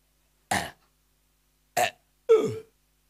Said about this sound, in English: You now start belching.